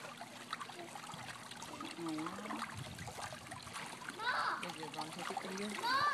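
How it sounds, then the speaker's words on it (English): A child splashes in water, with choppy bursts of splashing and trickling under the voices of a child and an adult. "Don't splash too much."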